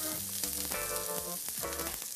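Wild boar meat fries in fresh oil in a casserole, a close crackling sizzle with bursts of spitting fat and a few scraping stirs, fairly quiet and with no voices.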